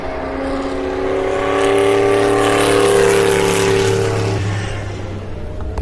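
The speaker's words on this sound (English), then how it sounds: "Here comes another Mercedes. Is this a C9?" A Mercedes C9 Group C race car howls by on a wet circuit, starting loud and rising to a peak before its engine note drops off into the distance.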